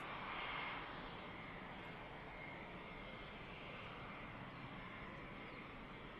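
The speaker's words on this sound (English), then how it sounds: "EasyJet's just touched down now." An EasyJet airliner touches down at Manchester Airport, a faint, distant, steady jet engine roar with a broad rushing wash and no talk.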